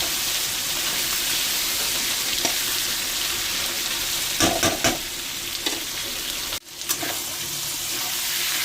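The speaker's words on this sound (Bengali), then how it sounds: "এবার আলুটাকে ভালো করে ভাজবো।" Potatoes sizzle and fry in a pan with a steady hiss, broken by a few sharp clatters of stirring.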